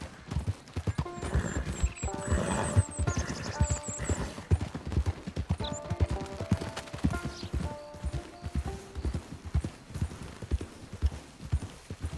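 Horse hooves clip-clop at a steady walking rhythm in the Western video game Red Dead Online, close and clear, with brief whinnies and light game ambience around them.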